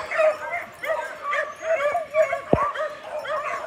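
Hounds lined up at feeding time bark, yip and whine together, a close, restless chorus of overlapping high cries and whimpers with one sharp bark near the end.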